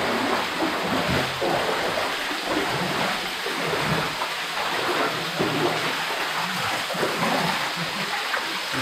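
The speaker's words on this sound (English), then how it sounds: "I can see ahead quite a lot of water coming up." Water rushing and splashing steadily through a flooded level of an 1800s lead mine in the Northern Pennines, a dense continuous wash that fills the space with no pauses.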